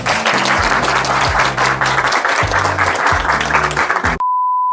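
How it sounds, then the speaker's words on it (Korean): A crowd claps steadily for several seconds, a dense wash of hands, then it cuts off abruptly into a flat electronic tone. "이런 의미에서 박수 한번 부탁드리겠습니다."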